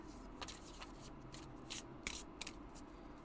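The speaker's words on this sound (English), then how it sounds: "let me shuffle these babies here, and I will draw a card" A deck of oracle cards from the Whispering Woods and Secret Garden decks is shuffled by hand, giving quiet, close papery riffles in several short bursts.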